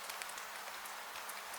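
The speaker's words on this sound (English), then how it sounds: "The sound of rain changes at once." Night rain in Venice, heard muffled and hollow from beneath a covered passage, a soft, even hiss of drops with faint scattered patter, distant and quiet throughout.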